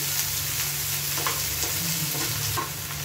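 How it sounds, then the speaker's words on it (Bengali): Onions stirred and frying in a pan for a Bengali fish stomach dish, a steady sizzle with soft scraping strokes of the spatula throughout, close and continuous with no talking. "একদম হালকা হাতে পেঁয়াজগুলো খুব ভালো করে নড়িয়ে নিতে হবে"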